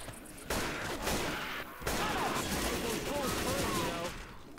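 Rapid explosive frag-round gunfire in the video game Left 4 Dead 2, a dense continuous burst of shots and blasts with game effects, while players talk over it.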